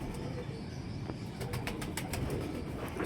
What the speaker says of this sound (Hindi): ये मेरा उड़ा हुआ कबूतर है जी माशाल्लाह